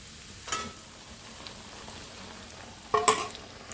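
Besan roasting in melted ghee over a low flame while being stirred, with a faint steady sizzle and two brief louder scraping bursts from the stirring spoon, no talking.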